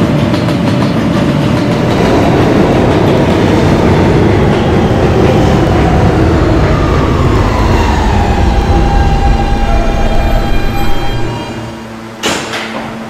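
An R160 D subway train in a Roblox game rumbles steadily along the rails with a loud, continuous roar and faint rhythmic clatter, then dips and fades near the end as a short sharp burst cuts through.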